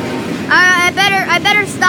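A train passing close by sounds its horn in several loud, short, tonal blasts of uneven length, over a rough rumble of wind.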